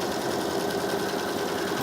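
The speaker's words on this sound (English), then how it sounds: "I want to make sure to back stitch at the top, and we're just going to sew it" A domestic sewing machine runs steadily while stitching fabric for a travel pillowcase, giving a continuous, even mechanical whir and rattle with no pauses.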